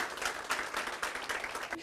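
A live audience at a comedy show claps in a short burst of applause, moderately faint, with a voice heard over it.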